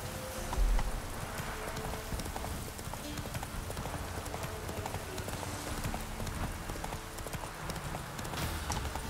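Horse hooves clip-clop steadily at a trot in The Witcher 3 video game, a continuous rhythmic clatter close by with a rumbly ambient bed beneath and no talk.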